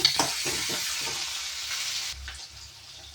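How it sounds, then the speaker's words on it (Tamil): Onions fry in a pan for an atthikkai poriyal, giving a bright, steady sizzle with several soft stirring scrapes near the start, then a quieter hiss once the stirring stops. "இதில் வந்து வெங்காயத்தை வதக்கணும். முதல்ல வெங்காயத்தை போட்டுருவோம்."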